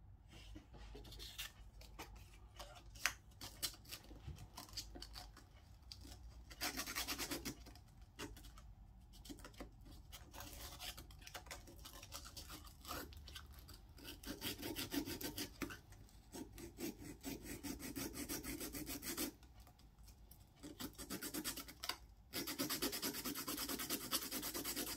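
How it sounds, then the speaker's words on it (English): A small homemade festive charity golf ball marker being filed or sanded down, a steady dry rasping rub running continuously and close up with brief pauses, no voices. "all you need to do is either file or sand the last little piece off"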